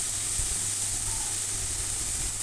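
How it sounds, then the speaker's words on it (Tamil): Fresh-cut cabbage sautés in a pan, giving a steady, even hiss like sizzling steam, constant and unbroken with no talk. "கோஸ் ஆட் பண்ணி நல்லா வதக்கி விட்டுருங்க"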